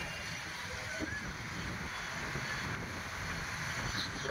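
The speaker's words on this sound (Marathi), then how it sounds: "वारं तरी इतकं सुटलंय ना" Strong wind roars steadily into the microphone beside the flooded Chandrabhaga river at Pandharpur, a broad continuous rush with a faint water wash underneath.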